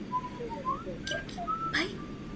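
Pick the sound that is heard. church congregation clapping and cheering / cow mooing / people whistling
people whistling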